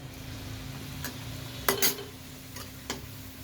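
Puri frying in hot oil for a doi luchi and fuchka recipe: a quiet steady sizzle, broken by a few sharp crackles and spatters, one louder pair near the middle.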